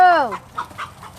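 Chickens in a yard give short clucks and squawks close by, after a brief harmonic call at the start, with puppies being walked around them.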